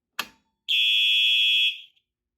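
A sharp click as a fire alarm pull station is reopened, then a loud, steady electronic alarm tone blares for about a second before cutting off, like a fire alarm horn.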